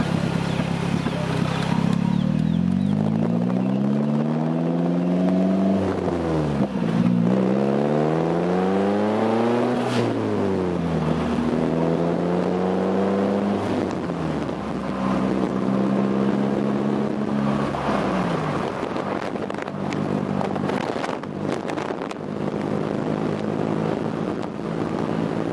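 A 2015 Polaris Slingshot accelerates hard through the gears, its engine note climbing, dropping at each shift and climbing again, then settling into a steady drone with wind rushing past.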